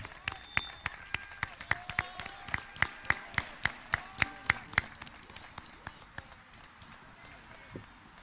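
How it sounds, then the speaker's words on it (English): Scattered, fairly steady hand claps from a small outdoor audience at a memorial highway dedication ceremony honoring Clifton P. Pitts, tapering off after about five seconds, with faint voices underneath. "So I'd like to give her a round of applause"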